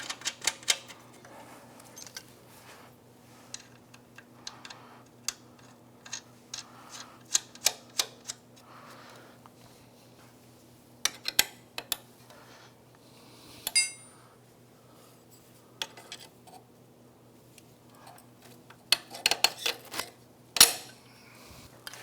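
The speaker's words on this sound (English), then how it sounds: "Let's get some torque on these bolts" Torque wrench clicking and ratcheting on Can-Am Outlander ATV axle bolts during an axle replacement, sharp metallic ticks and clinks in scattered bursts, close and fairly quiet with pauses between.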